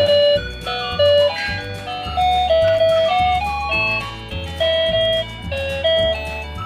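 A Volta 5017 electric Vespa-style scooter plays a bright chiming electronic tune, a simple melody of distinct beeping notes repeating in a steady rhythm, close and clear with no talk.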